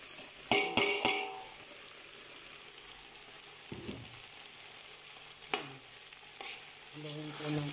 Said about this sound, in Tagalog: Haluin po natin ng haluin para kumalat yung alamang.